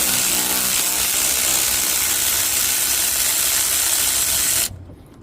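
A 17 mm socket ratchet works loose the power steering pump bolts on a 1992-1996 Ford F-150 4.9L. The clicking is steady, close and loud, and it stops suddenly near the end with no one talking.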